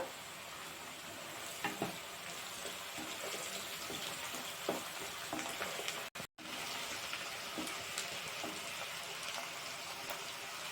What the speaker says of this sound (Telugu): ఉల్లిపాయలు అయితే లైట్గా గోల్డెన్ కలర్లోకి వస్తున్నాయండి. ఇంకా కొద్దిగా వేగాలి.